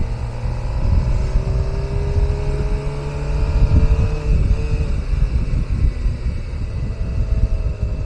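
A Suzuki GSXR motorcycle rolls in first gear through a neighborhood, its engine a steady low rumble with rising and falling harmonic whine and wind buffeting, continuous and close throughout.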